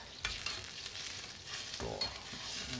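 Mapo tofu sauce seasoned with sugar, sake and soy sauce boils in a pan, giving a quiet bubbling sizzle with light stirring scrapes and occasional clinks.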